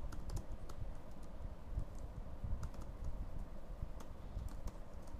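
Fast typing on a computer keyboard, a steady patter of close, soft key clicks with a few sharper taps over a low background hum.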